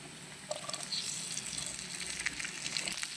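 Okra sizzles and crackles steadily in hot oil in a pan with golden-fried tempering spices, a dense continuous hiss with scattered pops and no talk.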